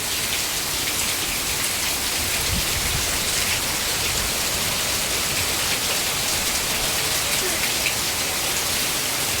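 Heavy monsoon rain pours steadily outdoors near a company building, a dense continuous roar of drops with no break.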